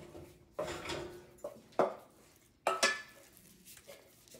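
Cream puff dough being stirred in a pot until it forms a ball, heard as a few separate scrapes and knocks of a utensil against the pot with quiet gaps between them, close and soft, without talk.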